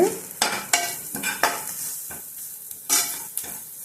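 Spoon stirring fried onions with coriander, chili, garam masala and turmeric powders in a hot pan for dhaba-style paneer bhurji, giving repeated scraping strokes over a steady close sizzle, with no talking.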